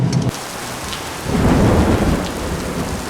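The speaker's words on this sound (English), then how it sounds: "Thunderstorm in the end of November in t-shirt weather" Thunderstorm in late November in warm weather: a low thunder rumble swells after a steady wash of rain pattering on surfaces, both loud and close, with no talking.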